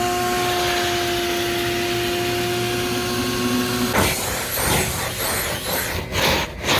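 A vacuum cleaner drones steadily while cleaning the center console of a Regal GS car, a loud whining motor with tonal hum that turns to rougher, fluctuating suction noises as the nozzle moves over surfaces.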